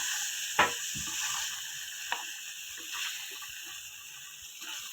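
Cashews fry lightly in oil with a soft, steady sizzle, faint and close, punctuated by a few gentle stirring clinks and scrapes.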